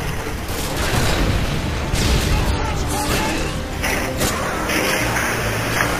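A grenade blast in the shooter game Modern Warfare 2, a dense rumbling roar amid continuous gunfire and crashing effects, loud and sustained, with a player's voice talking over it.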